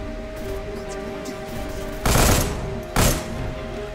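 Two loud, sharp bursts of gunfire in the first-person shooter Deadfall Adventures, each breaking out over a steady low background hum, the second following about a second after the first.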